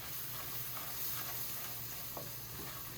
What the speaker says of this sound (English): I'm just going to cook this enough just to cook off the flour a little bit